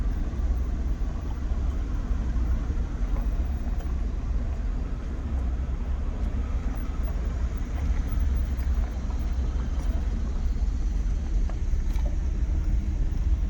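Car rolling slowly through an RV resort with pull-through sites in Four Oaks, North Carolina, a steady low rumble of engine and tires heard from inside the vehicle, with no talking.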